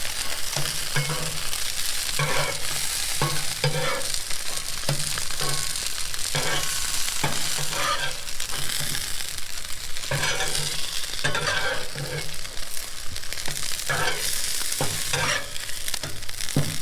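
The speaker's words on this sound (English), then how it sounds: "So when the tortillas start getting crispy like this on both sides, we're getting really close" Tortillas fry in a hot pan for crispy tacos, a loud, constant sizzle and crackle of oil with intermittent stirring and scraping sounds throughout.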